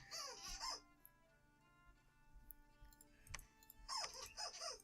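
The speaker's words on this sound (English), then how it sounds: "my dog's going nuts right now with her squeaker" Excited dog sounds with a squeaky toy being squeezed in short bursts, interspersed with quieter gaps and some background hum.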